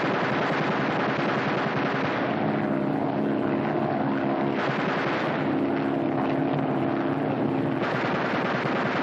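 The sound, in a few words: aerial gunner firing machine gun bursts from airplane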